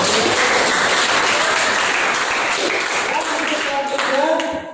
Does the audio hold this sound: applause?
yes